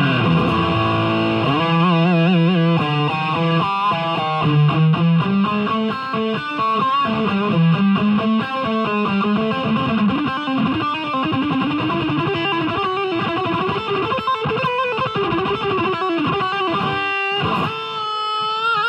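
A Kramer Baretta Special electric guitar plays through a Yamaha THR32 amplifier set to a flat EQ, giving a continuous distorted tone of sustained notes and riffs with no pauses for the full length.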